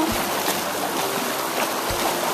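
A horse wades slowly through water at a fairly deep river crossing, with continuous sloshing and trickling close by and a couple of low splashing thuds.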